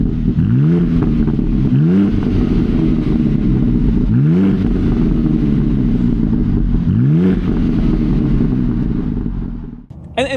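BMW G87 M2 with sport exhaust driving, a loud steady engine drone inside the cabin with repeated rising gear-change sweeps roughly every two seconds as it pulls through the revs.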